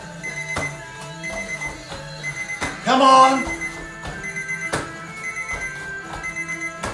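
Regular electronic beeps from a workout timer tick steadily throughout a kickboxing session while a person urges someone on, with a louder burst of noise midway.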